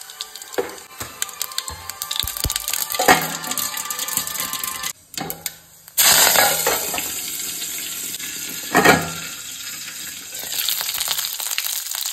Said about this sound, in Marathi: लोकणें तापलें की हितून आमी तेल घालून हेजी फोडणी रेडी करया.